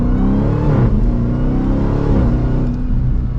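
A supercharged 2023 Dodge Durango SRT Hellcat in sport mode, its engine droning loud and close through short gear shifts, with pitch dips and rises at each change and steady rumble underneath, no voices.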